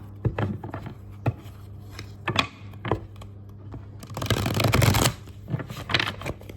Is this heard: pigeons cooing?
no